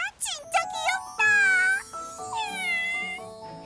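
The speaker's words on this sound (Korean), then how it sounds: "제가 그 아기 고양이예요." A kitten meows repeatedly in an animated dinosaur-robot cartoon, high and clear, with several drawn-out cries of rising and falling pitch, up close and loud with faint background sound.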